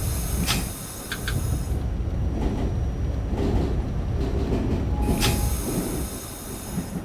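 Q train on the Brighton Beach Line in the OpenBVE simulator, rolling along with steady rumbling rail noise, wheel squeals and brief high screeches near the start and again around the fifth second, no talk.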